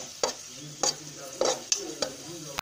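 Black raisins fry in oil left over from frying jackfruit seeds for payasam, a soft close sizzle broken by five or six sharp spoon scrapes and clinks against the pan at uneven intervals.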